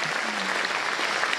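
An audience applauds a theatre troupe in a brief, dense burst of clapping, steady and fairly soft, with a faint voice briefly underneath.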